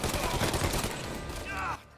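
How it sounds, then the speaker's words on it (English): Rapid bursts of Tommy gun fire crackle in the Mafia Definitive Edition game, dense automatic shots over a second and a half under shouted talk, then cutting off abruptly. "Looks like he also has a Tommy gun."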